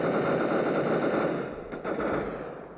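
Rapid automatic weapon fire in Counter-Strike: Global Offensive, a dense continuous burst of shots that thins briefly near the end, loud and without talk.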